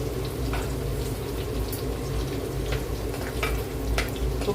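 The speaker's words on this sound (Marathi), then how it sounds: "थोडा मस्त लसूण जरा परतून देऊया." Garlic sautéing in a hot pan for a tangy tamarind-based curry, a steady loud sizzle and crackle with faint stirring scrapes throughout.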